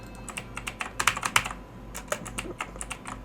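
Quick, uneven clicking of keys on a computer keyboard that seems sluggish, heard up close with a steady low hum underneath and no voices.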